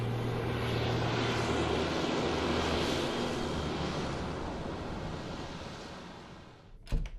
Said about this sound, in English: I board the transport plane back to Millennium City with Hybrid, Kodiak, and Secretary Rochester